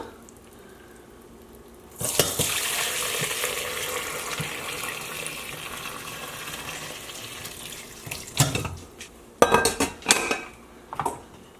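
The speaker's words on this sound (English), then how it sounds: "I have a stainless steel bowl and a strainer, and I'm going to just dump everything in" Bone broth from an Instant Pot, with its vegetables and bones, is dumped through a strainer into a stainless steel bowl: a sudden loud rush of pouring liquid lasts several seconds, then metallic clanks and knocks follow as the pouring ends.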